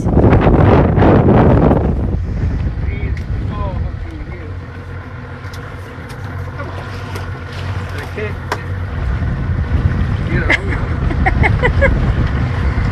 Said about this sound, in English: I'm fighting the wind, baby.